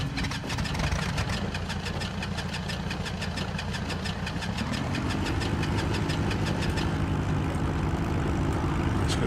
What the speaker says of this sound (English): we'll try and start the right engine